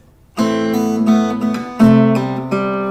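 Acoustic guitar notes ring out one after another, a fingerstyle plucked melody with pull-offs and a bass note beneath, played alone at a steady pace.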